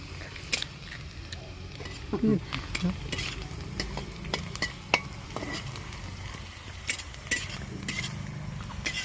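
Onions frying in a pan while chicken is cooked, a low continuous sizzle under scattered sharp clinks and scrapes of a utensil, fairly close and moderately quiet.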